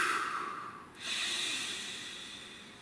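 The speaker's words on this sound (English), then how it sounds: "Nice deep breath, please." A single long, deep breath drawn slowly and close up, with a steady airy hiss that swells and fades away, and no talking.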